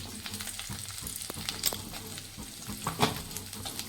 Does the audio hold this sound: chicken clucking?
no